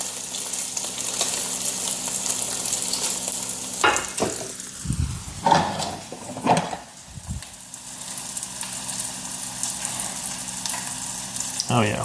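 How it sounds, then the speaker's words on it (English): Bacon sizzles in a nonstick skillet with a steady hiss, and a few louder bursts of spatter and stirring come through in the middle. No one speaks. "Make sure my bacon's well done here."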